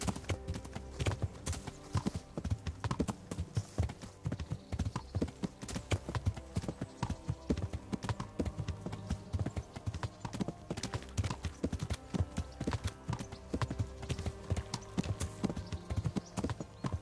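Horse hooves clip-clopping steadily in the medieval role-playing game Kingdom Come: Deliverance, a continuous rhythmic trot over a busy game soundscape with no talk.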